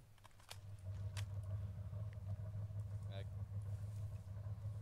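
A vehicle engine in a military video game rumbles steadily nearby, a low continuous drone under the ambient battlefield sound with a few sharp clicks and faint tones.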